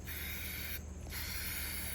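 Brown spray paint hissing from an aerosol can onto a 16-inch pool noodle stem piece for a Halloween pumpkin craft, a steady close bright hiss that breaks off briefly midway and then resumes.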